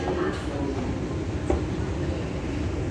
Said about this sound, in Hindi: अभी मेट्रो पकड़ी